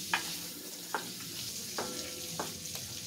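Bacon frying in an oiled pan gives a soft, steady sizzle, with a few sharp clicks from stirring spaced about a second apart.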